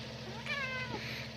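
A domestic cat gives a single drawn-out meow, close and clear over a faint steady hum, with no talking.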